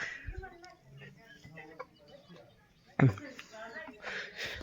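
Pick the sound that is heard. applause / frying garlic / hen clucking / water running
hen clucking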